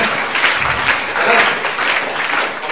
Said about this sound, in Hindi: ताली बजा दो जरा जोर से